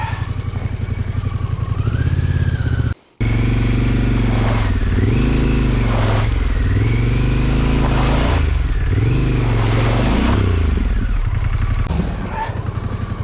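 A Harley-Davidson Pan America motorcycle engine drones loud and close while riding, rising and falling through repeated revs, with a brief cutout near the start.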